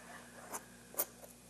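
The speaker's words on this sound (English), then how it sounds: "and I'm going to dice that up" A knife dices duck skin on a cutting board, giving two or three soft, short cuts close up against a quiet kitchen background.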